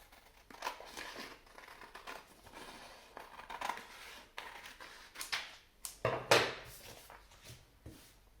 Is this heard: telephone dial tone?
no